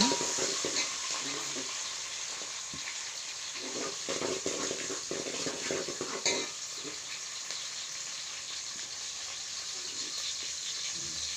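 Green chillies fry in a pan alongside chopped onion and tomato as they are mixed in, giving a faint, steady sizzle broken by soft stirring scrapes and knocks.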